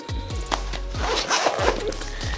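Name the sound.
zipping up a pen case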